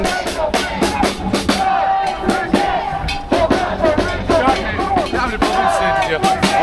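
Crowd at a protest by the War Memorial in Leeds, a dense outdoor babble of many voices with shouts and raised calls, continuous and fairly close, with people talking nearby.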